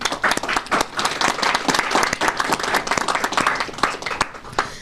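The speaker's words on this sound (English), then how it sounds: "So I think Commissioner Owen deserves a round of applause" An audience gives a round of applause at a COVID-19 vaccination update briefing, dense overlapping claps with sharp individual hits, continuous and fairly close for several seconds.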